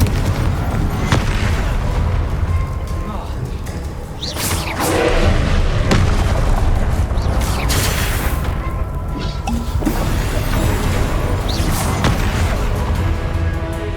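Confringo explosion spells are cast in Hogwarts Legacy. Loud, heavy blasts and booms follow one another with almost no break, building into a dense, continuous rumble of impacts.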